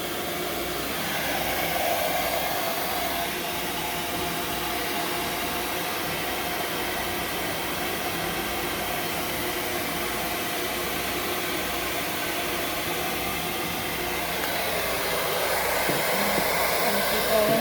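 A blow dryer runs steadily and close up, a loud continuous whoosh of air drying a dog's coat during a grooming session, with no talking heard over it.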